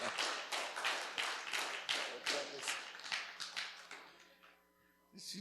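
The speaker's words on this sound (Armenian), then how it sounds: "Ուզեմ ձեր ջերմ ծափահարությամբ այստեղ հրավիրենք Անի ջան, Արման ջան, երեխեքի հետ" A church congregation claps in a steady, uneven ripple of many hands, fairly distant and moderate in level, fading out near the end before a brief renewed patter.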